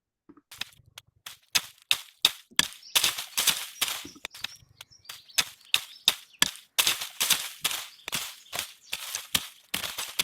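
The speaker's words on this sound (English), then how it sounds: "this is a sound clip of basically hitting some dry leaves" Dry leaves being hit, a fast series of sharp crisp crackling strikes, some in quick bursts, close and fairly loud with no talk.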